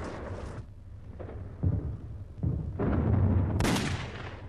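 A preemptive wartime bombing raid on rows of parked US aircraft at Clark Field in the Philippines, with explosions and gunfire: heavy blasts and crackling bursts swell and fade repeatedly, loud and close, ending in a sustained roar.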